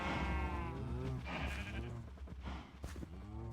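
Sheep in the video game Minecraft bleat in several wavering calls one after another, close and clear, with no talking.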